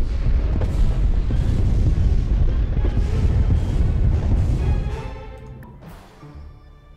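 Booming bombing explosions in a video game, a dense continuous barrage of loud deep blasts and rumbles that thins out and fades toward the end, with no talking.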